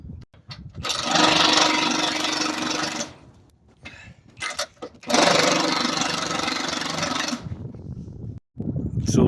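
Pry bars scraping and grinding as workers shift a dock into alignment during dock puck replacement, two long loud rasping bursts of several seconds each with brief clanks and quieter pauses between.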